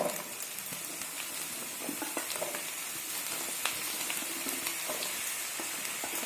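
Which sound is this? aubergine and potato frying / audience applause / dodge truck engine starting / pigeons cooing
aubergine and potato frying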